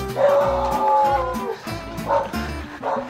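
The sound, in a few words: dog barking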